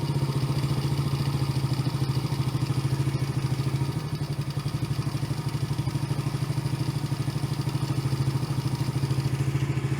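Yamaha TTR110 small dirt bike engine idling after an idle adjustment, a steady, even putter with a rapid regular pulse and a faint clattery top end, close by and continuous.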